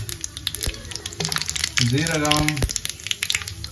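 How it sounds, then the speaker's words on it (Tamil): Mustard seeds and cumin sizzle and crackle in hot oil, a busy frying hiss with sharp pops, heard close under a person talking. "அடுத்தது வந்து கடுகு போடுறோம். கடுகு லைட்டா பொரிஞ்ச பிறகு ஒரு இன்கிரிடியன்ஸ் போட்டுட்டே இருக்கணும்."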